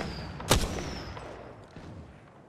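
A gunshot in a battle royale shooter, one loud close crack with a rumbling tail, followed by faint distant shots fading out.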